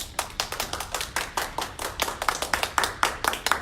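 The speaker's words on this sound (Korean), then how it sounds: "박수 부탁드리겠습니다." Audience clapping at a civic group's online general meeting, a run of irregular sharp claps from a small group, close and clear, continuing steadily for a few seconds with no talk.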